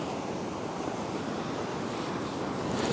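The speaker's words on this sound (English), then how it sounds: "Got to watch these waves, have got so much power in them." Ocean waves break on a beach in a steady, loud roar of surf, with broadband wash and wind rumble that swell slightly toward the end.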